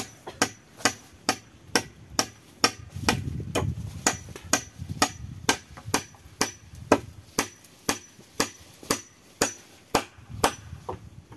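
Nails are driven by hand with a hammer while a guard house is built on a mountain lot, about twenty sharp, evenly spaced strikes ringing out close by, steady and loud, with faint background rustling.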